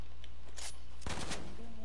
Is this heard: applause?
no